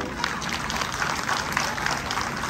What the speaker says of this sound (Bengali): হাততালি এত আসতে কেন?